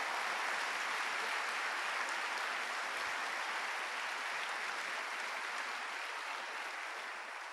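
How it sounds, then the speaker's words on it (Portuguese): Church congregation applauding, a dense continuous wash of many hands clapping together at steady volume that tapers very slightly toward the end, with no voices over it. "E eu queria que você aplaudisse isso."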